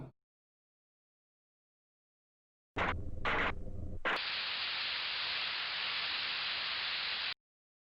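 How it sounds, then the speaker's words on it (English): A white noise sound effect in RPG Maker MV: after a few brief noisy bursts, a flat, steady hiss switches on and holds evenly for about three seconds before cutting off abruptly. "Ah, white noise"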